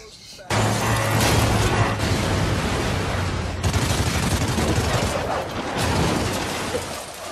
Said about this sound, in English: Shoot the buildings until they explode, John Ghost.